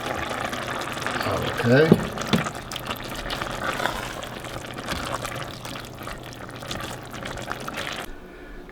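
Juices from alligator meat pour into a gumbo pot, a brief liquid splash and trickle heard up close within a busy kitchen soundscape, with a person saying a word near the start.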